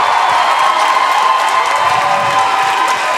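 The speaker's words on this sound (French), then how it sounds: "On les applaudit." Loud audience applause and cheering for two comedians at a live comedy show at Club Soda, a dense, steady roar of clapping with whoops, no talk.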